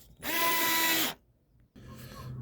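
Milwaukee power drill driving screws into a pre-drilled patio bar, one loud close whirring burst of about a second, a short pause, then a quieter rumble.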